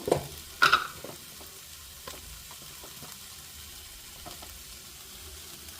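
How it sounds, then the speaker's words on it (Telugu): A tomato curry simmers in a pot, with soft bubbling and faint crackle under a couple of sharp utensil knocks near the start. The sound is quiet and close. "మా కూర చూడండి ఉడుకుతూ ఉంది సో కూర చక్కగా బాయిల్ అయింది"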